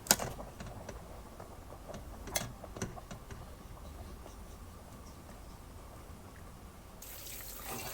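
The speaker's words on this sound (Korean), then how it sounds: "건져낸 오징어를 씻는 게 아니고 흐르는 물에 살짝 식혀준다는 느낌으로 해주시면 돼요" Tap water runs steadily over two freshly blanched squid, a continuous close hiss and splash with a few small knocks and drips near the start.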